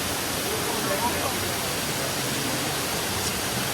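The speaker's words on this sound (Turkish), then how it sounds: "Ah, şelale." A waterfall in a Puerto Rico forest roars steadily, a dense, unbroken wash of falling water that stays loud and even throughout.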